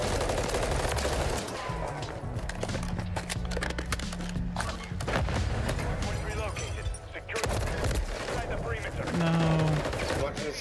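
Rapid gunfire from a Call of Duty MW3 ranked Hardpoint match, dense bursts of shots crackling throughout over game effects, with a player talking over the action.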